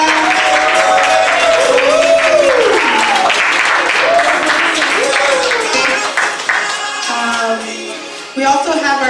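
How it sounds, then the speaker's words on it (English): An audience applauds loudly with sustained clapping during a church worship service, while voices speak over it; the applause fades toward the end. "Let's give a round of applause for our parents, our pastoral"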